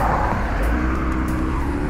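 Cars rush past on a Brisbane highway in a continuous, fairly close roar of traffic with no voices, the tyre and engine noise swelling slightly as vehicles pass.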